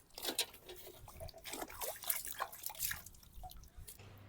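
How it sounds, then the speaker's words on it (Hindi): Mahabala herb root being rinsed under water, a quiet, irregular patter of drips and splashes with soft trickling, heard close without any talk. "अब इसको पहले मैं धो लेता हूँ।"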